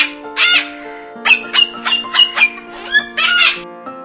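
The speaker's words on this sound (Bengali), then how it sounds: "ঘয়ে ঘুঘু পাখি।" A dove's call repeats as a series of short, bright chirping notes, close and fairly loud, over a steady musical backing, with no talking.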